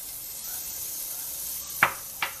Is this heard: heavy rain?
no